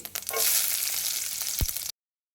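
Crushed garlic with its skin still on, plus cumin, hits hot oil for a pepper rasam, giving a loud, close, hissing sizzle with a brief low thump near the end before it cuts off.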